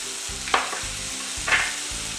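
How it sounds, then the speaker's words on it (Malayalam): Ginger garlic paste frying in a pan over low gas gives a steady close sizzle, broken by two brief stirring scrapes, with a low rhythmic hum running underneath and no speech. "ഇതിൻ്റെ അകത്തേക്ക് നമുക്ക് ബാക്കിയുള്ള ചേരുവ, അതായത് ഇഞ്ചി വെളുത്തുള്ളി പേസ്റ്റ്"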